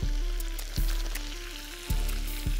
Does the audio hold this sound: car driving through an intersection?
no